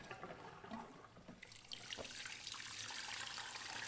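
Water drains steadily from the hose of a portable washing machine in an RV, a continuous rushing trickle that is fairly quiet and close, with no voices.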